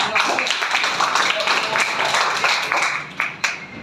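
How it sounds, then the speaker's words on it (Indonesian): Applause from a high school class at the end of a lesson, a dense, steady patter of many hands clapping at close range that thins out toward the end. "Boleh kasih aplaus untuk kita semua"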